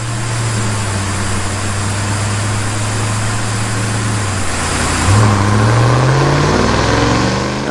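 A car on a chassis dyno runs hard through its gears in a dyno test. A loud, steady engine drone holds one pitch, then a gear change comes near the end and the pitch climbs again. No one speaks.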